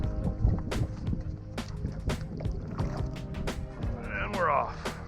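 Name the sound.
paddling a paddle board on water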